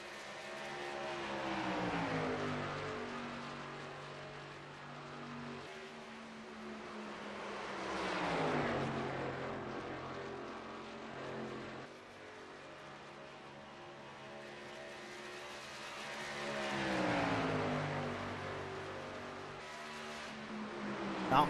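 Race cars battling in the Winston main event, engines howling past again and again, each pass climbing in pitch and fading off, with waves of roaring engine noise rising and falling at a distance.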